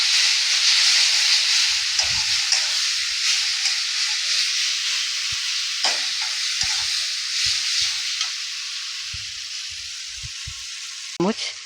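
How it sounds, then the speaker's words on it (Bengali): Spice masala frying with a little water in a pan for a Bengali aloo potol dalna, a steady broad sizzling hiss running throughout with faint stirring knocks and scrapes underneath. "বেশি তেল দেবো না, ওই জন্য একটু মশলাটা ভাজার জন্য একটু জল ব্যবহার করে নেব"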